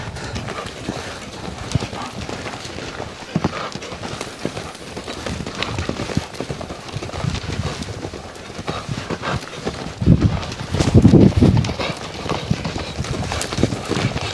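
A panicking horse lopes during ground driving, hooves clip-clopping in a steady running rhythm throughout, growing louder and heavier near the end, with a possible whinny and faint background noise.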